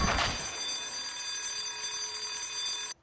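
A continuous electronic alarm rings in the mobile horror game White Day, its steady tones held loud and unbroken for nearly three seconds before cutting off abruptly.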